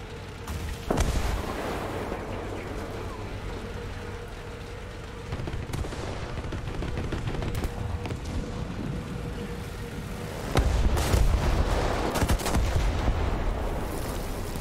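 Battle sounds in War Thunder with British tanks: repeated heavy bomb blasts and booming cannon and gunfire, several sharp loud impacts with a big burst near the end, over a constant rumble of engines.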